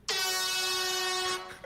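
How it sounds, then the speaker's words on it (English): An air horn sound effect gives one loud, sustained blast of about a second and a half, then cuts off sharply, with nothing else around it. "It was an air horn."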